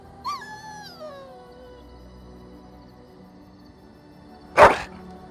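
Two short dog barks from a video game character's dog in Dragon Age: Origins, a loud whining yelp at the start and a sharp, louder bark near the end, separated by quiet ambience.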